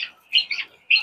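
Quail squawk in short, loud, close bursts inside a quail house holding only laying hens, three sharp calls with brief gaps between them and no voices.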